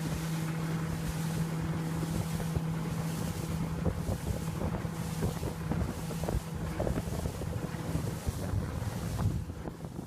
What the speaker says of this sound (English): now here is the boat moving away from them